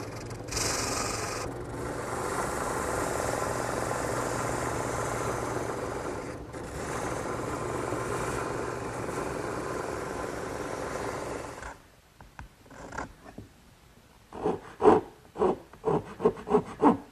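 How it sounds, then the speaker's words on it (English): A wood rasp files the slats of a ladderback chair to fit their mortises, first as a long, steady, loud scraping close by, then as a series of separate short rasping strokes with pauses between them. "Now it's just a matter of taking a rasp and fine-tuning each piece until it fits snugly in the mortise."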